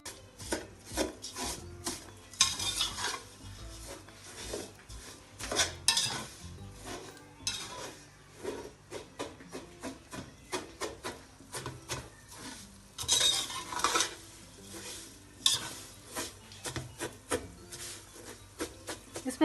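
A spoon stirs and scrapes crushed vermicelli browning in a pan for Hyderabadi sheer khurma, giving a soft steady rhythm of scraping and faint sizzle close by, with no voices.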